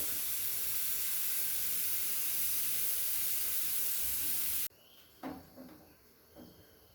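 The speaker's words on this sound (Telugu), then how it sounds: "ఫ్రై చేసుకునేటప్పుడు మ్యాక్సిమం హై ఫ్లేమ్లో పెట్టి ఫ్రై చేసుకోండి" French fries frying in hot oil over a high flame: a loud, continuous hissing sizzle that cuts off abruptly, followed by quieter scattered clinks and rustles.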